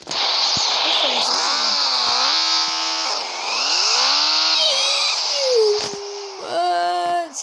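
Motorcycle engine in a mobile driving game with open-map free riding, revving up and down in continuous sweeping pitch with quick throttle changes, loud and up close with no pauses.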